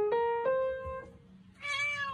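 A cat meows close by: two short, bright calls in quick succession, a fainter third, then a longer, rising and strained meow after a brief pause.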